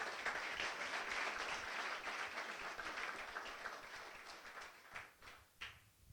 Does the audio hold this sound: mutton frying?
no